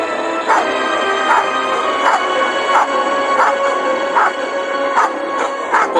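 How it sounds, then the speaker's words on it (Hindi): Several dogs bark and yip in quick repeated bursts, loud and close, rushing toward a fallen scarecrow, with a steady rhythmic pattern of yelps throughout. "बेजुका को जमीन पर गिरा पड़ा देखकर कुत्ते उसकी ओर भागे।"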